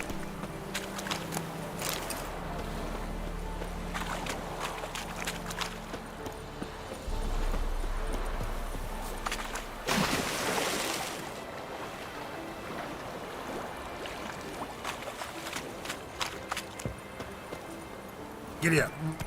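Horse hooves clop in a quick, steady trot in The Witcher 3 video game, mixed with water and ambient game sounds, while a voice talks over them.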